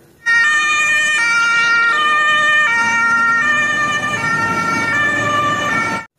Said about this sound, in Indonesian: Wah, mobil pemadam kebakaran.